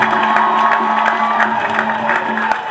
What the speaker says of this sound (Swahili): tupaze sauti na kumpigia makofi tena Mungu wetu.